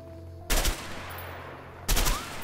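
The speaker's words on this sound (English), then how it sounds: "you gotta shoot the bottles out there" Two loud, close gunshots, about 1.4 seconds apart, fire at thrown bottles in the A Way Out video game, each a sharp blast with a short echoing tail over a low background hum.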